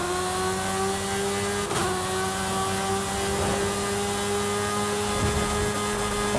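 Car accelerating hard in the video game Forza Horizon 5, a steady, loud engine drone climbing in pitch with a gear change or two, heard alone without talk.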